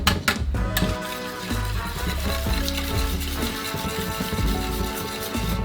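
Banana pancake batter with eggs being mixed in a bowl, a steady, continuous wet stirring that runs loud and close for several seconds with no talking over it.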